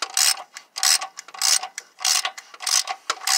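Ratchet wrench with a 22 socket cranking down a bolt on a 1990 truck engine, a series of close, loud bursts of rapid clicking with short pauses between strokes.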